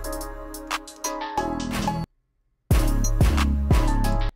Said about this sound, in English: So instead of that, I could do a beat drop.